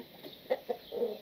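An Indio Gigante pullet gives a few short, soft clucks in quick succession, close by on a farm with a faint background hiss.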